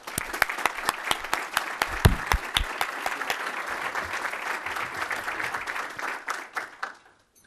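An audience at a chamber event claps loudly and steadily to welcome a new port director for Port Manatee, a dense burst of applause that holds for several seconds before fading out sharply near the end.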